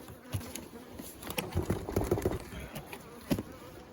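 Honeybees buzz softly around an open hive box, a faint, fluttering hum with wingbeats drifting close and away, nobody speaking.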